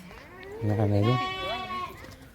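A goat bleats once, loud and close, a long wavering cry, amid a group of goats being washed.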